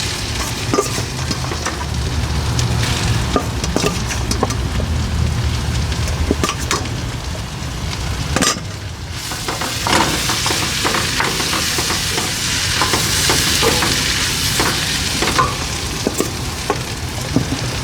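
Masala for masala dosa fries over low heat with a steady crackling sizzle, broken by scraping strokes of a spoon stirring through the pan, close and continuous.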